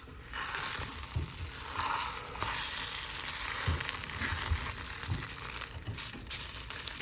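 An egg roll sizzles and fries steadily in a pan before being flipped, a continuous crackling hiss with occasional soft clinks and scrapes, close and moderately loud with no talking.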